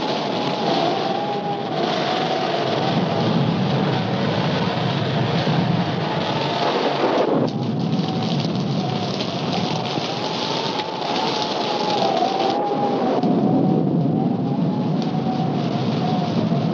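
Steady heavy rain pours throughout a thunderstorm, a dense continuous hiss with low rumbling thunder rolling underneath, shifting slightly in intensity partway through, with no voices.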